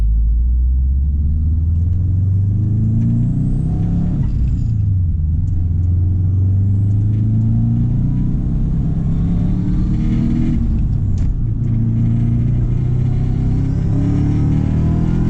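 A Subaru WRX drives and accelerates, its engine rumbling loud and close from inside the car, with rising pitch sweeping through repeated gear pulls over about fifteen seconds and no talk.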